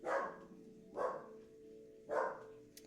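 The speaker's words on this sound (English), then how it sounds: "I must go see what the dog is barking at." Three short barks from a small, excitable house dog at someone outside the window, spaced about a second apart, moderately close and alone.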